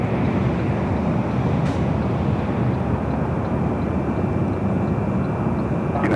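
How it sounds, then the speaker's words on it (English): Emirates Airbus A380 jet airliner arriving at LAX, a steady, loud broadband engine roar that holds constant throughout with no talk over it. "Let's head back to the A380 Super. Of course, this is Emirates Flight 215 coming up from Dubai."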